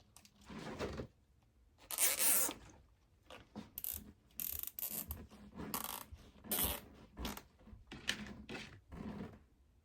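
Zip ties ratcheting tight while fastening parts of a DIY Christmas wreath: several quick, close zipping bursts in short separate pulls, with quiet pauses between them.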